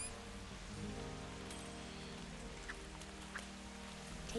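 Rain patters continuously in the video game Octodad: Dadliest Catch, a soft, even wash of drops with a few sharper ticks, heard faintly under a low musical drone.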